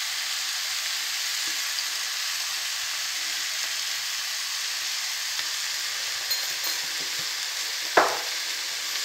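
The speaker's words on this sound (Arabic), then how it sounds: "الشامبيني راه طايب خصو غير يتشحر شويه باش يتحيد منو داك الماء" Button mushrooms fry in a pan, cooking off their water for minced-meat nems: a steady, close sizzle runs throughout, with a small clink of a utensil near the end.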